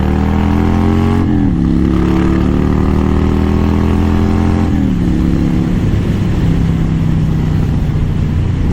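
A motorcycle engine revs and pulls hard during a quick ride, its pitch climbing through steady rising harmonics, dropping at gear changes near two and five seconds, then climbing again under continuous wind and road rumble.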